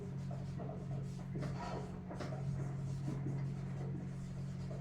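A physics teacher writes on a board during a lecture on magnetic force on moving charges, with soft scratchy strokes and taps coming in short bursts over a low room hum.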